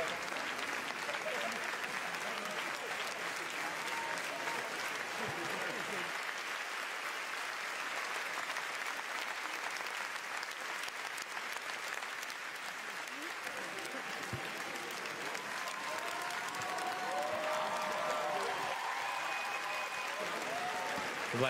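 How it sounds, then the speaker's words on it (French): Sustained audience ovation at a Cannes Film Festival screening honoring the film Capharnaüm's team, dense steady applause filling the whole stretch with a faint crowd murmur underneath. "je vais vous laisser écouter l'ovation du public pour Nadine Labaki, Zayn Al-Rafia et toute l'équipe de Capharnaüm"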